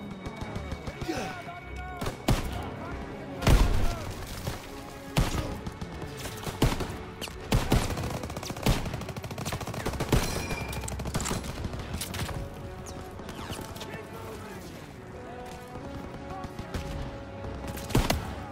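Call of Duty WW2 machine gun fire, sustained bursts of rapid gunshots and heavy thuds layered with battle noise, loud and dense throughout, with shouting voices mixed in.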